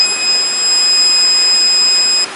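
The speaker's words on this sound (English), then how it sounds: "You get a warning tone." BT6 rechargeable no-bark dog collar sounding its warning tone, a steady high-pitched electronic whine held for about two seconds over a hissy background, close and fairly loud.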